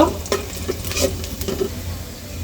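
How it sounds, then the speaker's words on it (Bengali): Chopped garlic sizzles in hot oil in a pan while being stirred for nihari, giving a close, steady frying hiss broken by scraping stir strokes. "রসুনটা একটু অল্প একটু লাল লাল করে ভেজে নিয়ে তারপর আমি পেঁয়াজ দিয়ে নিব"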